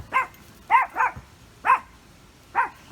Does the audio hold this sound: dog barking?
yes